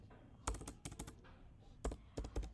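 Typing on a computer keyboard, with quick bursts of clicky keystrokes in small clusters separated by short pauses, close and fairly quiet, with no voices.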